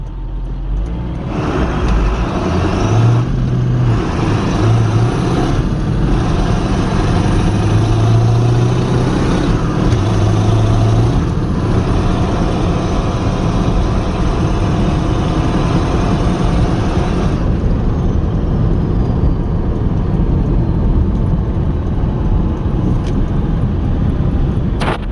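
A 7.3L Powerstroke diesel truck fitted with a hood stack rolls along a back road, its loud, continuous low engine rumble and road roar heard from inside the cab for a long stretch with no talking.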